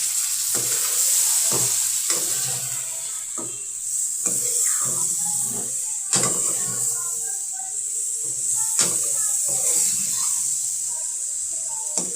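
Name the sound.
spice masala roasting and sizzling in pan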